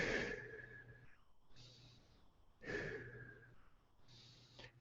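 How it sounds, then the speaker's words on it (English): Slow, audible breaths in and out during a gentle home workout, each exhale a soft airy rush followed by quieter intakes, with a faint low hum underneath. "Breathing in and out."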